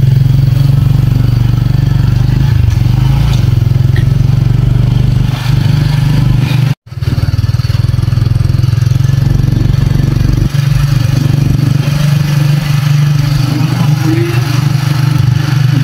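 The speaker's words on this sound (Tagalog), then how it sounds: "Dami motor, dami bahay ah." Continuous engine drone of motorcycles rumbling past at close range, with clatter and a brief dropout midway.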